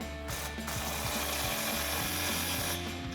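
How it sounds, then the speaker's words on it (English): An impact wrench with a 15mm impact socket tightens an exhaust clamp on a 2024-2025 Toyota Tacoma with a Flowmaster FlowFX dual exhaust, a steady close mechanical buzz with a rapid rattling pulse throughout. "So we'll grab our impacted 15mm socket, tighten this last clamp down here."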